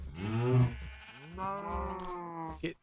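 Cattle lowing in Minecraft, a couple of drawn-out moos with a short sharper animal call near the end, close and clear with no talking.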